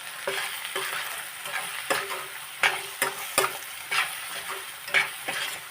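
Stuffed bitter gourd curry is stirred in a sizzling pan, with a spoon scraping and knocking in a regular rhythm of distinct strokes over the frying.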